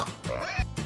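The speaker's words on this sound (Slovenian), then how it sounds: "Raca gaga." A farm duck gives one short nasal call with a rising, bending pitch. It is close and fairly loud, and no one is talking.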